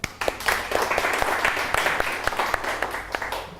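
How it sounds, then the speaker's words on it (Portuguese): An audience claps together, with many distinct hand claps standing out from a steady roar of applause that slowly tapers off. "eu quero puxar uma salva de palmas para vocês"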